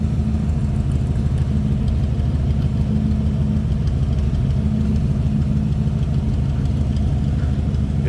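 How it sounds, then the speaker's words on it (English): A 1966 Shelby Cobra replica's engine runs loud and close, a steady low rumbling idle with a slight mechanical clatter and no clear rise in revs. "Give me a little bit of throttle here with this."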